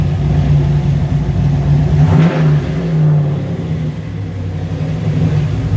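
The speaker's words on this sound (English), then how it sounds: "Giving them revs, it'll hang up for a second and come down nice and easy" A Foxbody Mustang's turbocharged 349 stroker engine revs up loudly, holds high for a moment, then eases back down to a lower rumble, heard close with no talking.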